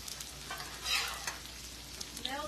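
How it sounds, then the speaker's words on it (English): Patty melt food sizzles and crackles in hot oil, a soft steady frying hiss with a brief stirring scrape partway through. "Maybe y'all can hear the sizzle now."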